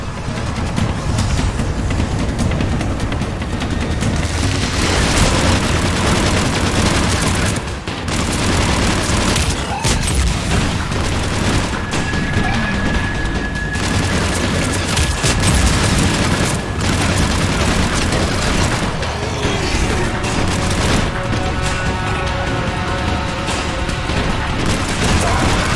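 Covering gunfire and explosions in Mass Effect 3 make a loud, continuous barrage of rapid shots and booms, with mechanical noises and brief radio-style voices mixed in.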